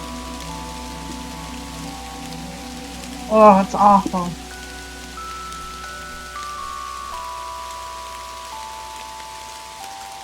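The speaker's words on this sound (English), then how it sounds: "Wish it would rain like that here." Rain falls steadily in the video game Kathy Rain, a soft continuous wash under game music, with a brief voice cutting in partway through.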